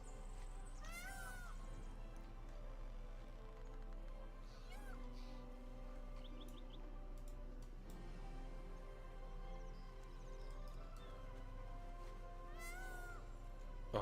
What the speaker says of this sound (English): this peacock makes me so happy. I love the sound it makes. The meow.